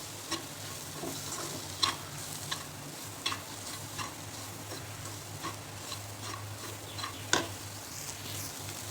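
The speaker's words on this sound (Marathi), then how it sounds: "ह्यामध्ये आपण खोबऱ्याचं वाटण करून घेतलेलं आहे ते टाकायचं आणि त्याला छान परतू द्यायचं" Ground coconut masala paste sautéing in a pan, a soft continuous sizzle broken by sharp spoon taps and scrapes at irregular intervals, fairly quiet and close.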